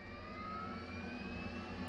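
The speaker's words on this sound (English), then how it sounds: "Once we turn on the APU, the APU is turning on now." The auxiliary power unit of an F/A-18C in a flight simulator spins up as a steady, faint whine with a rising high tone over a low engine drone.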